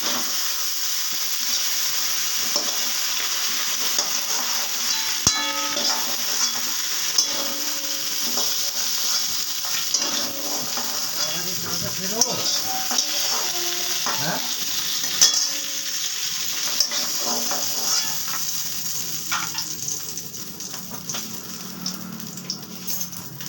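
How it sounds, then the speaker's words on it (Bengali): Fish heads fry in hot oil in a pan for a Bengali murighonto, a steady loud sizzle running throughout with occasional scrapes and clinks of a utensil against the pan. "মাছের মাথাগুলো ভাজা হয়ে গেছে, এবার এগুলো আমি তুলে নিচ্ছি"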